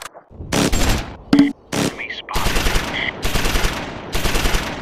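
Bursts of automatic gunfire and single shots in the Close Combat 5 war game, Battle of the Bulge mod. Loud separated volleys come first, then sustained rattling fire, with a few game sound effects in between.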